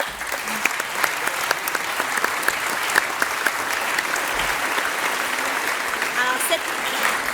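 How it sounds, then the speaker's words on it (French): Enthusiastic applause from the audience at a school awards gala, close and loud with sharp individual claps standing out over a dense, sustained crowd clapping. "On peut l'applaudir."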